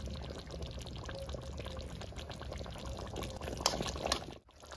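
Kewra water being poured into chicken chaap as it cooks, a steady soft trickle and splash that runs for several seconds, fairly quiet and close, then stops abruptly.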